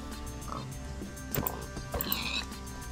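Pigs in Minecraft grunt and oink in a few short, separate calls over game background sounds, with a player's voice talking between them.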